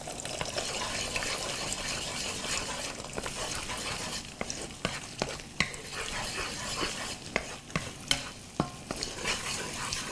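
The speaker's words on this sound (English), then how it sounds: "yeah, I'm gonna just do scrambled egg," Egg being scrambled and stirred in a hot frying pan, steady sizzling broken by repeated scraping and tapping of a utensil against the pan, close and clear with no talk.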